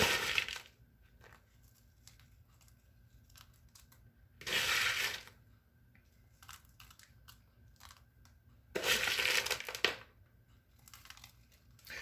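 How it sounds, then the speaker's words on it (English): Crushed vanilla wafers are sprinkled over banana pudding in two short bursts of dry, crumbly pattering, close and distinct against a quiet background with no talking. "I'm going to just sprinkle some crushed vanilla wafers on"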